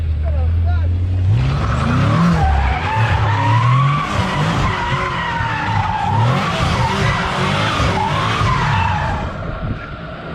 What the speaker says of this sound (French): il allume les pneus direct